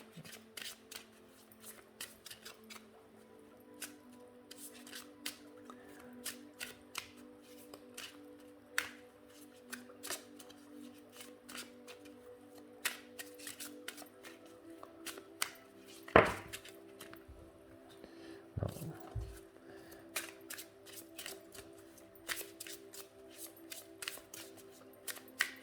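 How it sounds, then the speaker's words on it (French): Oracle cards from a dolphin and whale deck are shuffled by hand, making soft, close papery slides and light taps. Faint clicks and a couple of sharper knocks sit in an otherwise quiet room. "Ouais, les cartes glissent bien."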